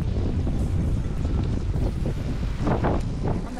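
Strong, gusty wind in stormy weather on Kefalonia, roaring and buffeting close to the microphone without pause throughout, with no one talking.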